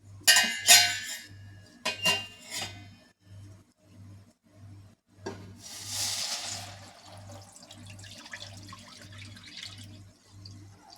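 Coconut milk mixture for Andhra-style coconut junnu poured into a heated pan: a few light clinks at first, then a short hissing splash of liquid, all over a steady, pulsing low hum.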